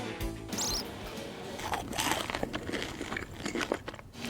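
Meringue cookies made from egg whites crunching crisply as they are bitten, with a dense crackling texture that carries on steadily throughout, fairly quiet and close up.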